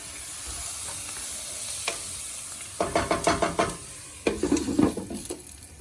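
Vegetables being mashed and stirred in butter in a pan for pav bhaji: a faint sizzle first, then two bursts of rapid rhythmic knocking and squelching as a masher works them.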